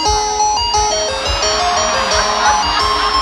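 A voice imitates an ice cream truck jingle with beatboxing, thumping bass beats in a steady rhythm under a tinkly, repeating melody, loud and close.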